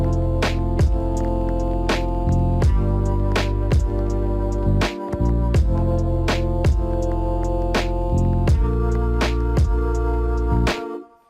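Lofi hip hop loop of long sustained chord-note melody tones over a 16-step pattern with steady drum hits, playing alone at an even level for about eleven seconds.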